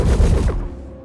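A ship turret on an RSI Polaris in Star Citizen fires a loud, close burst of shots that ends after about half a second and fades into a ringing tail.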